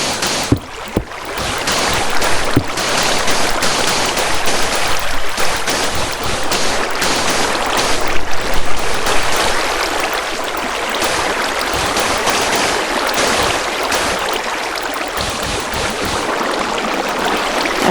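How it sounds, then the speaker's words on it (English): Flowing water in Minecraft, a continuous loud rushing wash that holds steady throughout with slight surges, heard alone without talk. "As you can see, the water will flow all the way"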